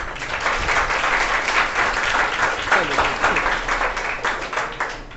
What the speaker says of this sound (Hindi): देखो ताली बजा रहा है, तुम लोग ताली नहीं बजा रहे हो यार।